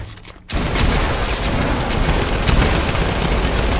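Sustained bursts of automatic gunfire erupt in Fortnite during a beach assault, dense and loud rapid shots that start abruptly after a brief quieter moment and continue without pause.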